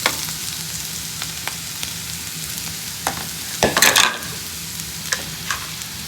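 Bitter gourd and onion sauté in a pan with a soft, continuous sizzle, broken by several sharp clicks and a louder scraping stir near the middle.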